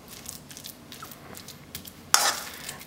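Minced beef patty mixture with mushrooms is stirred and mashed in a bowl, soft wet squelching and scraping strokes, ending with a louder, brief clatter of utensil against the dish.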